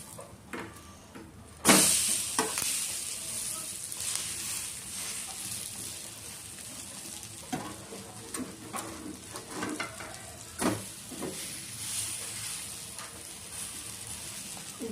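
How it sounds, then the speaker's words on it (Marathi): Besan bread cheela fries on a hot griddle with a soft, steady sizzle, punctuated by a loud hiss when the slice lands and occasional scraping and tapping of a spatula. "असं तव्यावरती टाकून द्यायचं. दोन्ही साईडला त्याला चांगलं फ्राय करून घ्यायचं."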